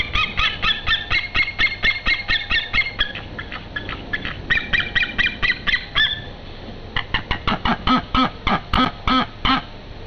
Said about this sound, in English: He waited for a bird to return, and when it did, he captured these loud and dynamic contact calls.